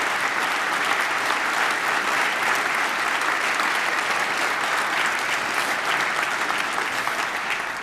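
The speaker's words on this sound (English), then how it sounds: "Y'all need to give Chris Estes a round of applause." Sustained audience applause fills a state government address as a crowd claps steadily for an honoree, dense and even for the full length with no talking over it.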